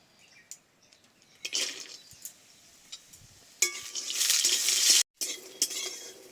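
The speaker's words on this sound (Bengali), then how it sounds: "প্রথমে বড়িগুলো ভেজে নেব।" Kohlrabi lentil dumplings (bori) fry in mustard oil in a kadai, the spatula stirring and scraping with scattered clinks and sizzling bursts that swell toward the end; no talk.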